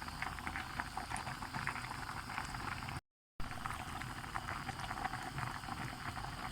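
Egg noodles boil hard in an uncovered pot of water, a dense continuous bubbling and churning broken by one brief silent gap.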